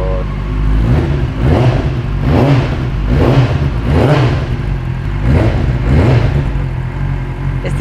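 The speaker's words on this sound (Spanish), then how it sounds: "Escuchase motor." A motorcycle engine revs repeatedly at close range, a loud rumbling idle broken by about six rhythmic throttle blips rising and falling.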